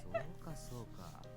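A Taisho x Alice game character's voice meows once, a short, soft, cat-like vocal cry delivered by a human voice imitating a cat, fairly faint.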